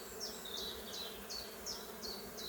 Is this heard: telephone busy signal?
no